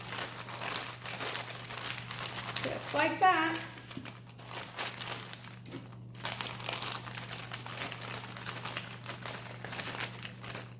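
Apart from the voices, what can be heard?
plastic zip bag crinkling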